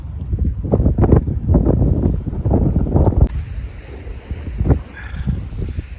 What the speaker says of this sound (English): Listen to the waves.